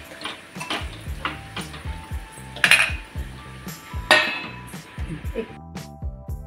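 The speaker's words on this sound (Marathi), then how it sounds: "थोडंसं मिक्स करूया आणि पुन्हा आपण आता झाकण ठेवून हे 1-2 मिनिट शिजून घेणार आहे" Stuffed capsicum is stirred in a metal pan and a lid is set on top, producing scattered light utensil clinks and two sharper metallic knocks near the middle over a soft tonal background.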